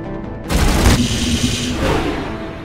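Cryo rounds being fired from a weapon in Mass Effect Legendary Edition: a loud, dense burst of automatic gunfire with a booming onset that continues as a sustained roar before easing off.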